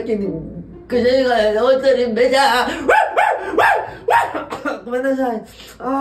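A voice imitates a dog, delivering a sneeze as a string of loud, repeated bark-like yelps in an animated comedy about high-school boys, with spoken lines mixed in.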